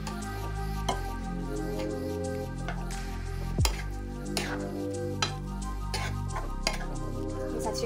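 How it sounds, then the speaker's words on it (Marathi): Carrot halwa being stirred in a pan after milk is poured in, with a spoon scraping and clinking against the metal in repeated strokes under a soft, steady sizzle. "दूध टाकल्यानंतर छान असं मिक्स करून घ्या."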